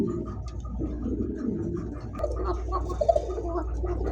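Arabian koka pigeons, one sitting on eggs, coo softly in a few low, murmuring bursts over a steady background hum.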